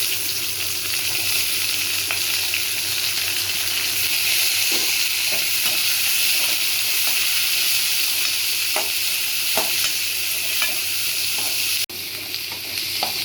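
Onions sizzle and fry steadily in a pan with garlic, tamarind and dried red chilies, a continuous close hiss broken by faint stirring scrapes and clinks, with no voices.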